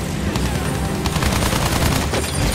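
Dense, continuous gunfire in Battlefield 1, loud and close, with overlapping shots rattling steadily for the whole stretch and little pause between bursts.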